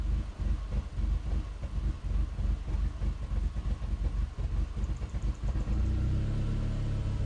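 Engine of a 2005 Skoda Octavia 1.8T 20V vRS idling lean with a bad idle, a close, loud, uneven rumble with pulsing low throbs, steadying toward the end as the idle rises.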